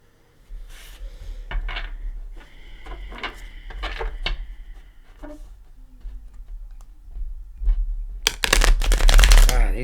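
New, stiff playing cards are shuffled on a table in a few separate riffle bursts, close and crisp, with a louder rapid riffle at the end and no talk.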